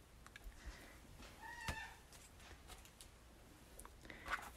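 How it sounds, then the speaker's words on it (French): A cat meows in the background of a quiet indoor room, a faint but clear pair of cries with scattered small clicks and rustles around them. "il y a un chat qui n'a pas de fun en arrière de moi"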